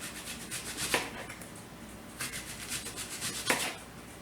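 A knife slicing an onion into round rings on a cutting board, soft repeated scraping rubs with a few sharper crisp cuts, close and fairly quiet, no talking.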